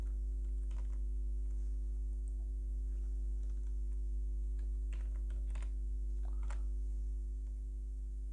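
Typing on a computer keyboard: scattered soft clicks and short bursts of keystrokes, fairly faint, over a strong steady electrical hum, with no talking.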